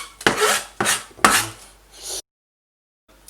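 An onion is grated roughly for risotto, three rasping strokes against the grater, close and fairly loud, then a brief silence.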